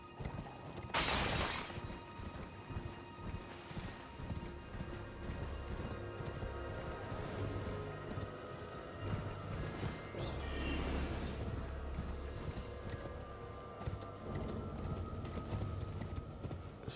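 A horse's hooves clopping on a hard floor inside a building in the video game Elden Ring, a steady walking rhythm under game ambience, with a bright crash-like burst near the start and another swell midway.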